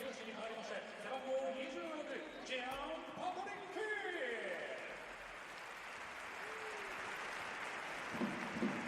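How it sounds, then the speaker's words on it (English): A stadium crowd at a Cerezo Osaka versus Gamba Osaka J.League Levain Cup match gives a warm round of applause to a substituted captain, heard as a faint, distant wash beneath a commentator speaking over it. "Gets a deserved warm round of applause"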